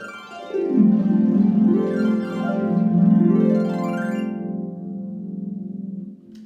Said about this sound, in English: One of the sounds that is most popular for the harp is called the glissando